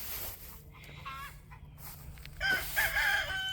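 Chickens cluck and a rooster crows in a backyard garden, with a brief burst of bird calls rising near the end over quiet background.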